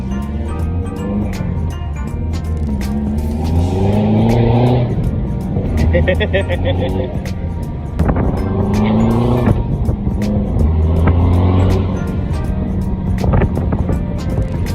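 A Honda car engine, just back from aircon and turbo repair, revs hard in repeated rising and falling surges, loud and close, while people talk over it.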